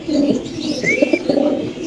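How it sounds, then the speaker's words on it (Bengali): A male Spanish pigeon coos up close, a low throaty rolling call repeated in quick bursts, with a brief higher chirp from another bird in the loft. "নরের ডাক দেখেন পাগল হয়ে গেছে"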